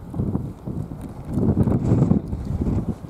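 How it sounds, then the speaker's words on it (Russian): A small horse walks slowly at a family farm outing, its hooves clopping in an uneven rhythm close by, with wind buffeting the microphone. "маленький конь,"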